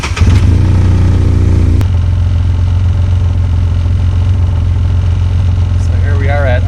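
A UTV engine idling after sound deadening mat installation, a loud steady low rumble up close with a brief start-up surge at the beginning and a voice talking briefly near the end.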